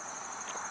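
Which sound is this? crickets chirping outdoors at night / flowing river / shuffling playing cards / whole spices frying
crickets chirping outdoors at night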